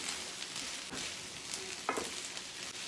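Chicken stir fry with onions, corn and water chestnuts sizzling steadily in a pan, a close, continuous hiss of frying with a brief stir or clatter near the end.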